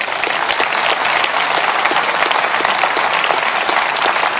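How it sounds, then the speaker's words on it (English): A Conservative party conference audience applauds Rishi Sunak's speech with steady, dense clapping from a large crowd that continues evenly throughout, with no voices. "You saw Patel clapping along to that."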